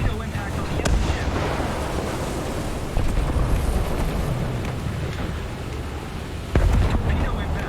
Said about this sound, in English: I see a torpedo impact on the enemy ship.